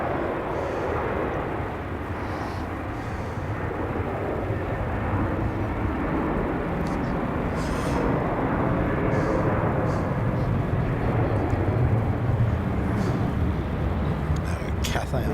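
Aircraft MH128 at Melbourne Airport at night, a broad, steady jet roar that swells gently in the distance and fills the scene, with people chatting over it.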